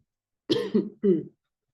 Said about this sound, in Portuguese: Eu falei para vocês que um pouco de tosse ia vir